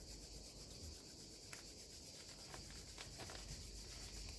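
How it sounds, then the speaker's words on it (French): Two hands rubbing against each other during a seated upper-body exercise, a faint soft continuous swishing friction with a few light brushing accents, close and quiet, no speech. "Et on frotte les deux mains, l'une contre l'autre."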